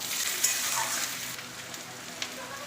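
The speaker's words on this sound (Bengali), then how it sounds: "এবার আমি একটু তেল দিয়ে দেবো আমরা যে পেঁয়াজগুলো রেখেছিলাম" Oil sizzling steadily in a pan with onions for a dried lotte fish (Bombay duck) shutki recipe, a broad, moderately loud frying hiss with a few brief clicks, close and continuous, with no talk.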